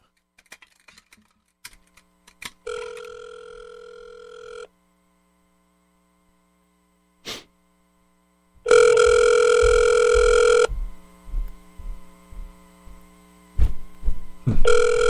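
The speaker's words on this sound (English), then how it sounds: "Calling Daddy." Telephone ringing tone heard while placing a call: two long, loud bursts of steady harmonic ringing, separated by silence and scattered clicks, with button or keyboard taps near the start and a short tone near the end.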